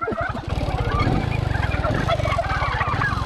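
A group of turkeys gobbling in response, a loud, continuous, rapid warbling chorus close by that fills the whole stretch, with overlapping calls and no speech.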